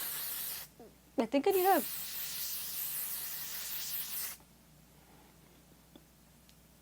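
A makeup setting spray misted onto a face, a sustained broadband hiss lasting a few seconds at close range, with brief vocal sounds over its start before it cuts off into near quiet.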